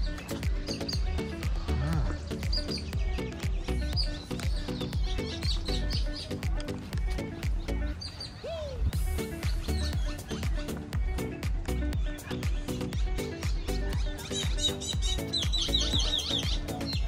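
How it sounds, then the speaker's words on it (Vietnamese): Birds chirp and sing in a wild-feeling habitat area at San Diego Zoo Safari Park, with repeated short bright tweets over a busy background of clicks and rustle, loud and close, while people talk quietly. "nghe tiếng chim hót luôn"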